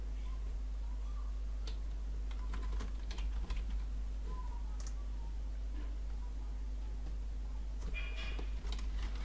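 Keys tapped in quick irregular bursts on a computer keyboard while entering five words into an online game-building activity, close and clear over a steady low hum, with no talking.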